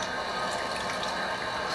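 A faint, steady hiss of tap water streaming into a sink to rinse a multiple-blade adjustable razor after a shave, continuous and soft throughout.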